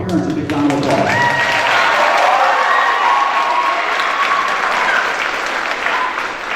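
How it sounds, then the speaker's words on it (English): A loud, sustained round of audience applause for parents at a middle school athletic awards ceremony at The Pine School. The crowd claps steadily, with some voices and cheering mixed in. "Let's give our parents a big round of applause."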